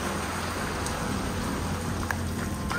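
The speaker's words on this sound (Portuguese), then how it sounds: "mas agora na chuvinha, Léo." Steady rain pours outdoors during a storm at a campsite by a tent, with a dense, even hiss of drops hitting the ground and surfaces throughout and no voices.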